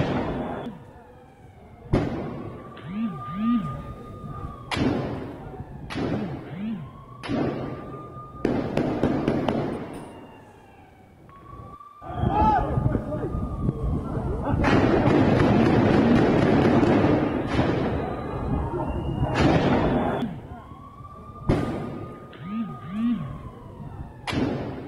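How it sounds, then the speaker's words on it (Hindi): Gunfire in the Jenin refugee camp in the West Bank during an IDF raid, sharp shots cracking repeatedly at irregular intervals, with rising siren wails between them and a sustained roar of noise midway. "जनिन कैंप में आईडीएफ की गोलीबारी"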